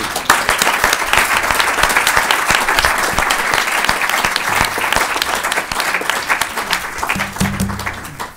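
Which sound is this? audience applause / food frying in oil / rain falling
audience applause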